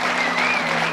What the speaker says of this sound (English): You just told it so great they had to applaud